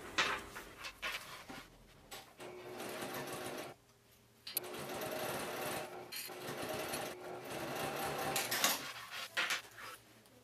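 A sewing machine top-stitches binding 1/8 inch from its folded edge, whirring steadily and close in long runs broken by short pauses.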